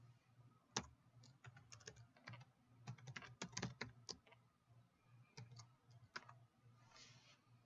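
Keystrokes on a computer keyboard come in irregular, close bursts of quick clicks with short pauses between them, quiet and with no talking.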